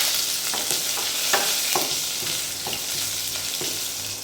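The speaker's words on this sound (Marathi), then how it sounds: "कढीपत्ता घालायचा आहे" Curry leaves crackle and sizzle in hot oil with cumin tempering, a steady loud frying hiss with sharp popping bursts recurring through the clip.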